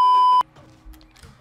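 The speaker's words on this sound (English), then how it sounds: "Yo, bell, stop ringing!" A steady ringing tone from a bell in Super Mario Odyssey sounds for under half a second, loud and alone, then cuts off into quieter game noise.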